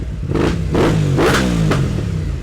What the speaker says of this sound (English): Aprilia 660. It's very loud.